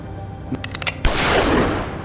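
Gunshot from a revolver loaded with silver bullets in The Wolf Among Us, a sharp loud blast followed by a long noisy rumbling tail, preceded by a few brief clicks.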